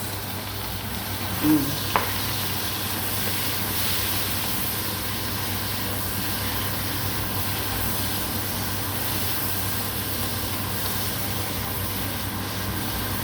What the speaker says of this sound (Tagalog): Lagay ko na yung bawang sibuyas. Ayan. Medyo umusok-usok, guys.